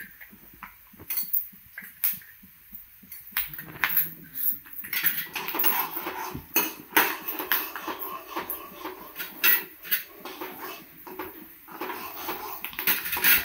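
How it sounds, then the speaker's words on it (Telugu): Mustard seeds dropped into a pan of roasting peanuts, a rapid crackling patter of tiny pops and rattles that builds from sparse ticks into dense popping, close up and alone. "ఇప్పుడు తగినన్ని ఆవాలు వేసుకుందాం."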